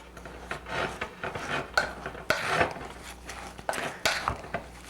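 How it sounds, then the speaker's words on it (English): Dry muffin ingredients are stirred in a bowl with a utensil, giving irregular scraping and rubbing strokes with light clinks against the bowl, close and moderately loud, with no talking. "And you stir the dry ingredients."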